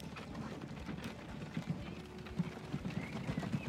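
Stagecoach horses in the Transport Fever 2 railroad game clip-clop in a quick, uneven run of hoofbeats, faint and steady under low background sound.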